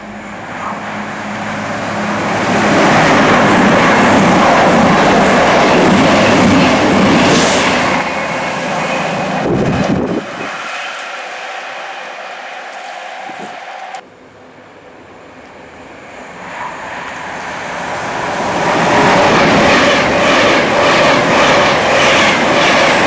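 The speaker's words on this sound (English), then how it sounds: "we do have 2 northbound trains flying through" Northbound trains rush through a station without stopping, a loud rumbling roar and rattling clatter, fading out midway, then another builds up again near the end.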